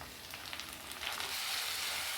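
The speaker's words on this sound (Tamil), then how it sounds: "தக்காளி போட்டு அதுவும் வதக்கலாம்" Tomatoes sauté in a pan with shallots and garlic for a Tamil kuzhambu, giving a soft, faint sizzle that swells slightly after a second, with no talking.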